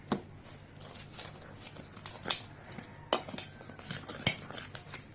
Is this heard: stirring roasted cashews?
yes